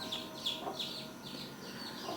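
A hatching chick peeps repeatedly in shrill, high-pitched cries, a steady rhythm of close, loud calls with no talk over them.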